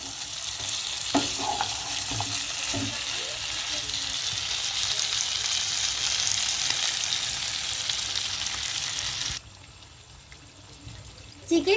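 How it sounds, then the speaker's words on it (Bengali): Chicken pieces sizzle and fry in a pan for Bengali chicken kanti, with steady broadband hiss and scattered scraping stir strokes; the frying drops away abruptly near the end, leaving a quieter tail. "চিকেনটা আমি ভালোভাবে কষিয়ে নিচ্ছি।"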